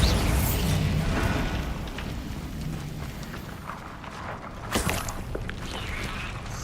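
Bombarda blasting spell cast in Hogwarts Legacy, a loud booming explosion with a broad rumbling tail, followed by a second sharp burst near the end.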